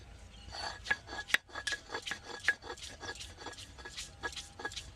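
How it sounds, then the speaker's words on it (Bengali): Ginger is ground by hand on a stone slab, making a fast series of rough, rasping scrapes in an even back-and-forth rhythm, close and fairly quiet, with one sharper click partway through. "এবার আদা বেটে নিব"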